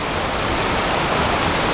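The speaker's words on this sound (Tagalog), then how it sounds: "Falls! Thunderbird Falls!" Thunderbird Falls, a waterfall reached by a ride near Mirror Lake, pours as a steady, dense broadband rush, close and constant with no break, with no voices over it.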